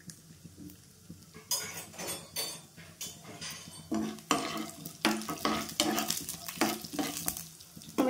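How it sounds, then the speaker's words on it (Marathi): Chana dal and urad dal roasting in a pan with a faint sizzle, broken by repeated scraping and clinking of a metal spoon stirring against the pan, close and fairly quiet. "चणा डाळ, उडीद डाळ टाकून घ्यायची, छान भाजून घ्यायचं त्याला पण"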